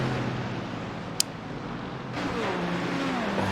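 Engines of GT3 cars and NASCAR racers in a racing video game at Watkins Glen hold a steady loud drone throughout, with one sharp click early and a slight lift in intensity partway through, no talk over it.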